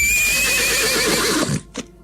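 A horse whinnies loudly and close, a long wavering neigh that cuts off sharply, followed by a short faint snort or breathy after-sound.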